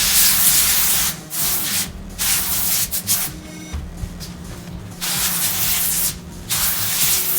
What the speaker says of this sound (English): So I'm going to spray my 4 sheets.